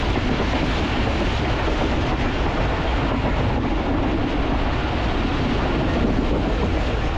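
The Pakistan Express train runs from Rawalpindi toward Dina past Gangrila station, a loud, continuous rumbling roar of the moving carriages heard from on board, steady throughout with no voices.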